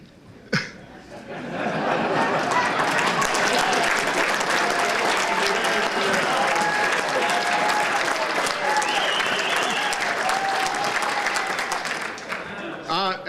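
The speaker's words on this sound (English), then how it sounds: "Thank you for your applause." A hall full of Legionnaires at a state convention bursts into sustained applause, loud and continuous for about ten seconds, with scattered laughter and chatter mixed in before it fades.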